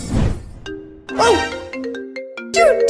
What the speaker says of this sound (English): Do you hear that? My phone is ringing again.